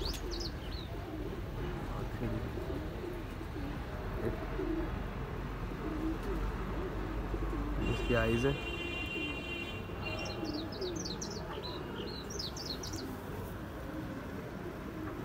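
Pigeons caught at the border coo softly nearby over a constant low background rumble, with brief chirps and rustles; someone speaks briefly.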